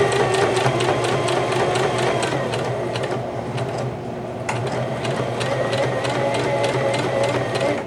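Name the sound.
Singer Heavy Duty 5554 sewing machine sewing thick fabric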